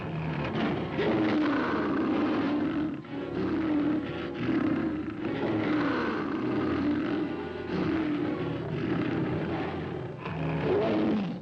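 Lionesses in a pride fighting a visiting lioness, with the male lion present, give continuous loud roaring and snarling for about eleven seconds. The growls run steadily and sit close, with brief dips in loudness between bursts.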